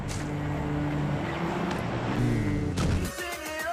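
A car engine drones steadily in a video game, a sustained motor hum with a shift in tone near the end.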